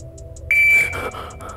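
A sharp electronic beep from a shot timer rings out at the start of a shooting drill. It is a single tone of about half a second over low background noise, with faint softer beeps before and after it.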